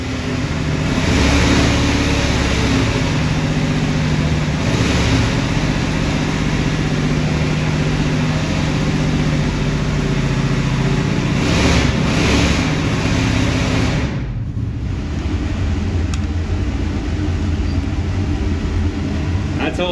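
An alcohol-burning big block Chevy V8 on a dyno warms up during break-in, a loud steady rumbling drone held for most of the stretch before a brief dip, then resuming, with speech over the engine noise.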